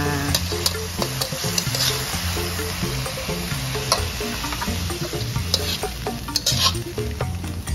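Chayote being stir-fried with anchovy sambal in a pan, with a steady sizzle and repeated scraping stirs of a utensil against the pan, fairly close and continuous, with no talking.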